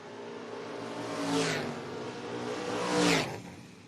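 Two drag racers, a Malibu and a Ranger, pass on a drag strip, each a rising whoosh of engine noise swelling and fading, heard twice at a moderate distance over a steady background hum.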